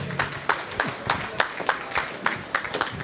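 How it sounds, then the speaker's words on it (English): A small audience at an amateur radio convention claps in fairly regular, crisp bursts, moderately close, with a light murmur underneath. "Let's give a big round of applause."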